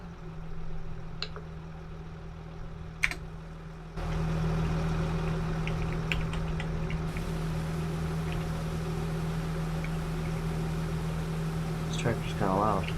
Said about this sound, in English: Tractor's kind of loud.